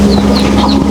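Chickens clucking close by and loud, a dense continuous chatter of short overlapping calls from several birds.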